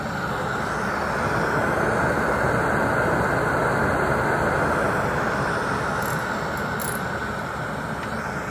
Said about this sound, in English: think I'm gonna hook my dust collector up this time too.